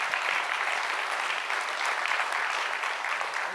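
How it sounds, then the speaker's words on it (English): Even, sustained applause from an audience at a physics celebration honoring a Nobel laureate, a dense wash of clapping lasting a few seconds without speech. "I would like to give him a round of applause"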